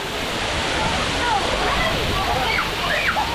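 Water splashes and sloshes continuously at a water play area with buckets and a slide on Royal Caribbean's private island, CocoCay, a steady wash of spray and splatter close by with faint voices in the background.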